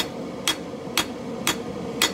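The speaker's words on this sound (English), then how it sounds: "we're just going to take the straight peen, work a little bit at a time from both sides" Straight peen hammer forging file steel into a kris dagger, four evenly spaced sharp metallic strikes about half a second apart, close and clear over a steady low background hum.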